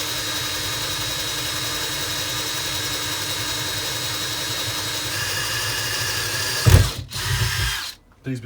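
A drill whirs continuously and close by while drilling during a DIY Samsung LED strip grow light build, steady for about seven seconds before a few clunks and a brief stop near the end.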